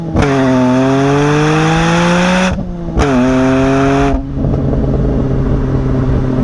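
A BMW E46 M3's exhaust howls through two hard accelerating pulls, rising sharply in pitch with a brief gap at the gear change, then settles into a lower, steady drone.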